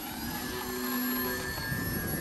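A small R/C plane's electric motor in flight, a steady high-pitched whine held at a fairly constant level, close and unbroken, with no voices.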